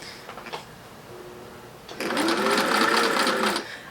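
A vintage Singer 600 Touch N Sew sewing machine starts up after a couple of faint clicks and runs steadily with a loud, close mechanical whir for about a second and a half before stopping.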